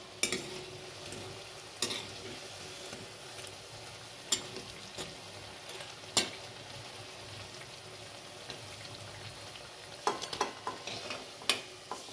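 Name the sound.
fritters frying in oil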